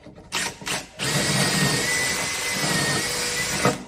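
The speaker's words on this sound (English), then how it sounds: "I just simply drill down into the pocket hole holes" A Kreg 520 Pro pocket hole drill boring into clamped wood, a few short bursts of the motor followed by a sustained close, loud whirring grind for several seconds that ends abruptly.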